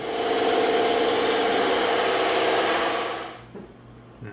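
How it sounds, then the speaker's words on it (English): A bandsaw cuts through thick EVA foam with a loud, steady high-pitched whine that holds evenly for about three seconds, then fades away as the blade runs down. "let's go over to the bandsaw and let's tear it up."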